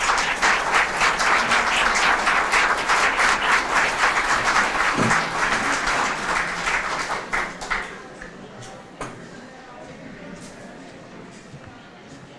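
An audience claps at a graphic design building open house celebration, dense sustained applause for several seconds that tapers off to a few scattered claps and quiet room noise.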